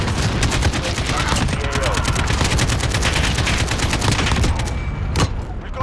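Golden AK-47 fire in a Modern Warfare video game pounds out as rapid, continuous automatic bursts, loud and close, lasting several seconds before a short pause and a final shot.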